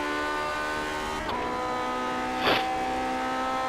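Car engine in third gear under hard throttle on the Daytona road course in a racing game, a steady high-pitched drone with stacked harmonics holding level throughout, a brief click midway and a short louder burst near the end.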